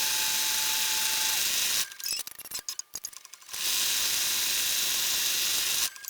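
Brother embroidery machine stitching a blanket stitch on appliqué pieces, a steady loud mechanical whir with a brief interruption of clicking and stopping in the middle, then resuming.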